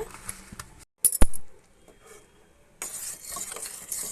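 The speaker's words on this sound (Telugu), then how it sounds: "పాకం అయితే ఇలా బాగా మరిగించాలి" Sugar syrup for burfi simmers in a pot and is stirred, with scraping and a couple of sharp clinks of the utensil, a short quiet gap, then a steady bubbling hiss returning close by.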